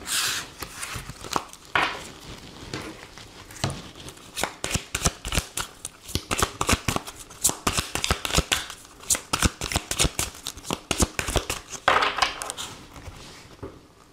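Tarot cards shuffled by hand during a daily reading, giving a long run of rapid, crisp riffling flutters and soft slaps that come in dense bursts, close and fairly loud, with no talk over them.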